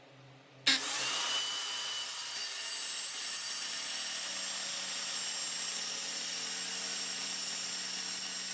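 A saw starts abruptly and cuts through a wooden cornhole board top, a loud steady whining rasp that holds evenly until the end with no voices.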